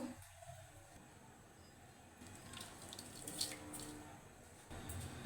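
Water pours into a pot of spiced chicken for Arabian chicken kabsa, a steady, quiet running stream that carries on through the whole stretch, with no voice heard.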